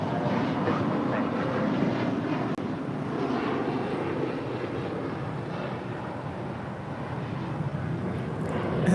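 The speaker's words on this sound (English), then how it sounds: "United Express 5696 departing to Reno, Nevada on an E175" United Express Embraer E175 regional jet departing LAX, a broad, steady engine roar at moderate distance that holds evenly for several seconds with wind buffeting the microphone.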